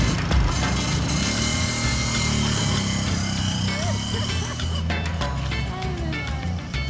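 Motorcycle taxi ride through Santiago de Cuba, a steady close engine drone with traffic and wind rumble, a voice speaking over it throughout.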